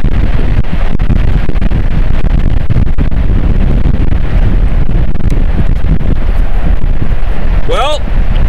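Heavy wind buffets the microphone nonstop with a loud, low roar over windy water in the wilderness, and a brief rising whistle-like tone cuts through near the end.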